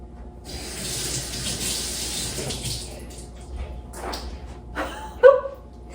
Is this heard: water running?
yes